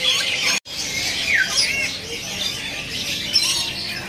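A blue-eyed pelatuk kondang bird caged at a bird kiosk, among a dense, steady chorus of chirps and squawks from many nearby birds, with a brief dropout partway through.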